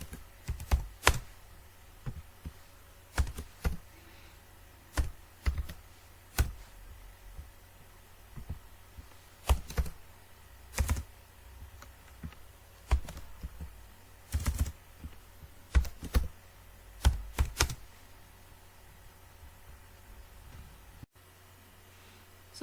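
Student names are typed on a computer keyboard in quick bursts of sharp key clicks, with short pauses between runs over a faint room hum and no talking.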